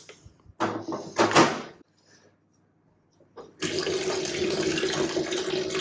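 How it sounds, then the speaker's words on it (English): A sink fills with tap water to mix fertilizer for plants grown in pumice: after some brief clattering and a pause, a steady, close rushing stream of running water sets in and holds without talk. "watch a sink fill up with water"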